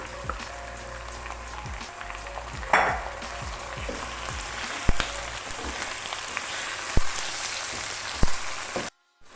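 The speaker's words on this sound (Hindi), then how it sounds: "चिकन की 5 से 10 मिनट के लिए अच्छी तरह यहाँ पे भुनाई कर लेनी है" Chicken coated in masala fries with onions in a pan, giving a steady close sizzle punctuated by occasional clunks and scrapes of stirring; no voices.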